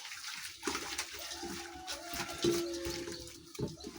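Warm water sloshing and splashing as kale leaves are washed by hand in a basin in a village kitchen, with irregular close splashes and trickles throughout.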